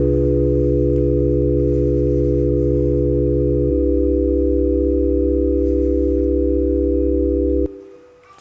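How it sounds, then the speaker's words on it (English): A chord built from pure sine waves plays as steady, sustained electronic tones, with the lower notes dropping out about halfway through and the rest cutting off near the end, with no voices. "we can make a chord playing just sine."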